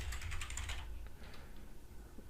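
A quick burst of typing on a computer keyboard, a rapid cluster of light clicks at the start followed by a few scattered taps, faint and close over a quiet hum.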